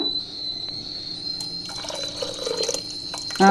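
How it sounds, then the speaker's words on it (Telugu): Water trickles and drips into a pan of mutton curry, a light irregular splashing close by, ending in a brief louder pour. "ఇప్పుడు మనము కొంచెం నీళ్ళు వేస్తున్నాను"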